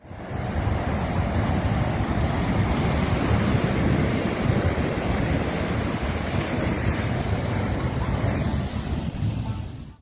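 Powerful, tsunami-like ocean waves pound El Majahual beach in El Salvador, a constant heavy surf roar mixed with wind noise, loud and unbroken for the full stretch.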